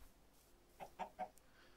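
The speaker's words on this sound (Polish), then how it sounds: "Kury uciekają przede mną." Chickens in the Minecraft video game give three short, quiet clucks in quick succession over a faint, steady background.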